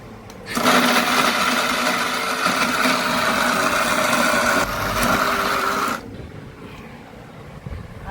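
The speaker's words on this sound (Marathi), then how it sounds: "मिक्स करून परत बारीक वाटून घ्यायचा" A mixer grinder runs loud and steady, grinding a peanut mixture for ladoo, for about five seconds before cutting off abruptly, leaving a quieter hum in the background.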